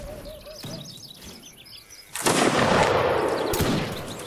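Musket volleys crack in a Mount & Blade Napoleonic Wars line battle: scattered distant shots with faint birdsong at first, then a louder burst of overlapping fire and rumbling gunshots that keeps going to the end.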